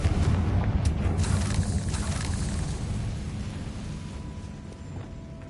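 Fire spell explosion in Hogwarts Legacy, a loud booming blast with heavy low rumble that decays slowly over several seconds.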